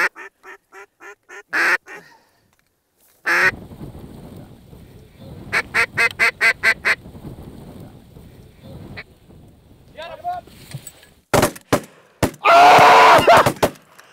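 Loud bursts of ducks quacking and geese honking in quick repeated series, with gaps of rustling noise between the calling.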